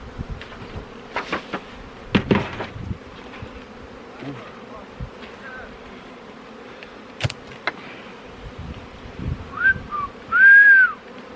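Honey bees buzz faintly around an apiary amid rustling and handling noises during a honey harvest, with a few sharper whistling tones rising near the end.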